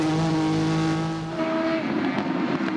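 Ford GT race car at the Nurburgring during the WEC 6 Hours, recorded onboard: a loud, sustained engine whine with tonal harmonics shifting pitch as it changes gear, then a rougher roar as it pulls on.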